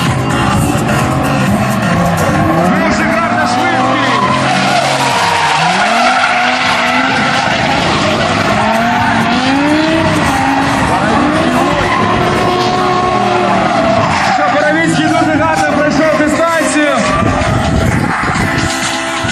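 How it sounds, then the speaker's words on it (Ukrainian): Drift cars at a 2015 Ukrainian drifting championship slide in tandem, engines roaring loud and continuous with long screeching tire squeal and skidding throughout, close and dense. "Постановка, хороший занос."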